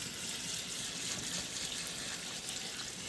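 Garden beans getting a thorough rinse under a steady hose or tap spray, a continuous broadband hiss of rushing water that holds even and close for the whole stretch, with no voices.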